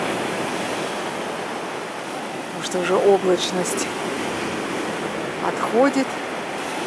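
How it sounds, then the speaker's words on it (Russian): Stormy winter sea at Lazarevskoye beach, a steady broad roar of surf and wind under a voice that talks briefly twice. "Море вот так немножко штормит."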